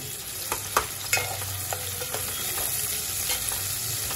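Long-cut onions frying over moderate heat in a pan for Koli-style prawn gravy, a steady close sizzle punctuated by a few sharp scrapes and clinks of stirring.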